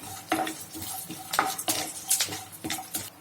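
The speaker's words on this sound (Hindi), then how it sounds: "इनको थोड़ा सा रोस्ट कर लेंगे क्योंकि मेरी रोस्ट हुई मूंगफली हैं" Roasted peanut kernels being dry-roasted and stirred in a pan for lemon rice, a spoon clattering and scraping against the metal in a quick run of close, uneven knocks.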